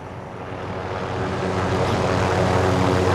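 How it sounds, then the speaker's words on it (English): A propeller airplane engine drones steadily in a multiplayer shooter video game, a broad continuous roar that swells slightly louder over the few seconds with no talk. "Taking my fucking plane back."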